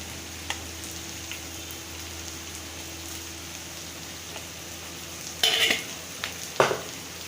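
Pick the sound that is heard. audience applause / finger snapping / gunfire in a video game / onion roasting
onion roasting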